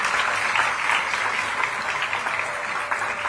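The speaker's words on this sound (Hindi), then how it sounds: "जोरदार तालियों के साथ स्वागत।" Audience applause welcoming the chief minister at a nursing college inauguration in Raipur, Chhattisgarh, a dense, steady clapping crowd that holds for several seconds with no break.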